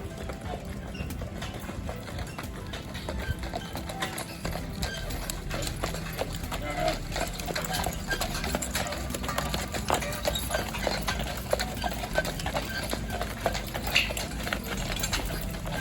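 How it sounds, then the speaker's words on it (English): Hooves of a carriage horse clip-clopping along the streets of Echuca on a horse-drawn ride, a continuous rhythmic clatter amid street background, fairly busy and mid-distance. "take a relaxing ride along the streets of Echuca in a horse-drawn carriage"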